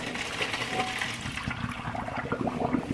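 Pasta water pouring through a strainer while making goat cheese pasta, a continuous rushing gush of liquid with splashing texture, close and fairly loud throughout, no voices.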